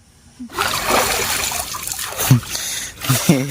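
Someone dipping into a pond while bathing, water splashing and trickling close by, with a few short voices over it.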